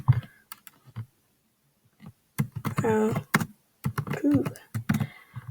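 Fingers type a quiz question on a computer keyboard in quick clusters of clicks, with a voice talking over parts of it.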